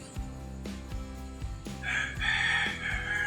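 A rooster crows partway through, heard from a boat at night in the Philippines, a drawn-out call rising over a quiet musical background with soft rhythmic low notes.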